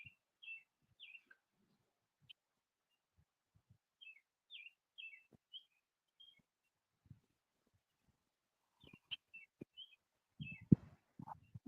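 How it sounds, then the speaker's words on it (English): Birds chirping outdoors beside a catfishing spot, faint repeated high tweets in short clusters over near silence, with a few soft knocks and handling noises toward the end. "Birds are chirping."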